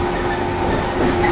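Two-car 115 series 1500 train running steadily on rails, with a loud, continuous rumble and wheel noise from onboard and no talk.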